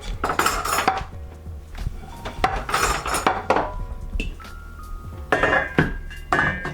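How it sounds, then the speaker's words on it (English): In a home kitchen during a venison cook-off, a pan is lifted off the stove: a series of close metallic clanks and scrapes from the cookware and utensils, coming in short bursts with quiet gaps between them. "Now I am going to take my pan off the stove."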